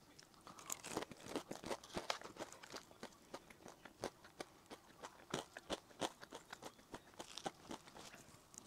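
Close, loud crunching of fried squid being chewed, tough squid with a crispy glutinous-rice coating, bite after bite in an irregular rhythm, with no talking.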